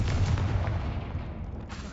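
The Confringo fire spell cast in Hogwarts Legacy, a dense, rumbling blast that holds steady at a loud level for two seconds before easing slightly, with no voice over it.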